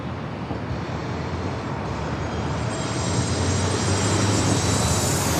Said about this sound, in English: It's the aircraft landing over there on North Island.